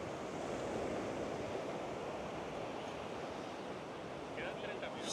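Ocean surf at Balangan Beach in Uluwatu, Bali, a steady, full wash of breaking waves rolling on without pause, with some wind noise across the microphone.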